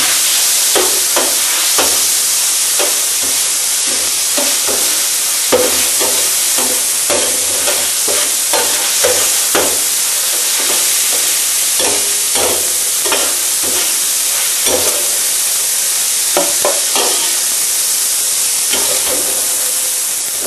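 Squid frying fast in a hot paella pan, a loud, continuous close sizzle and hiss with rhythmic stirring scrapes throughout, no talk.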